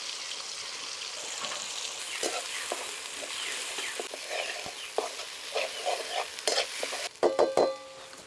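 Spice paste frying in very hot oil, a continuous crackling sizzle with irregular stirring scrapes and spatters that grow louder and more vigorous toward the end.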